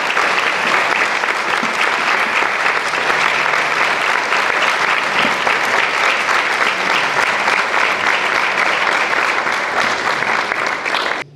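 An audience bursts into sustained applause at a 1937 revolution commemoration event in Dorrego, a dense, steady clapping roar that stays even for about eleven seconds before stopping abruptly.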